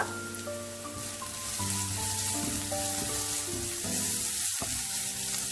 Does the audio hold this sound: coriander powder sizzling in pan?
yes